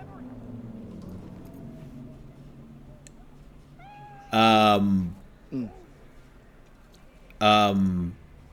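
A cat in the video game Cyberpunk 2077 gives two loud, drawn-out meows a few seconds apart, with a short chirp between them, over a quiet background hum.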